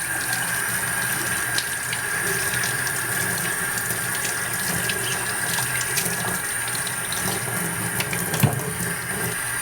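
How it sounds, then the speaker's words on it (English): Parts of a Bissell carpet cleaner are rinsed under a running tap, making a steady, close rush of water splashing into a sink for the whole stretch. A brief clunk comes near the end, and no one speaks. "And we can just rinse all this stuff off."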